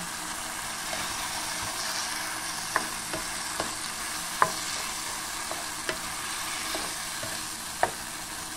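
Shrimp stir-fried in a pan for a shrimp pasta dish, giving a steady close sizzle punctuated by sharp spatula clicks against the metal, with no voices.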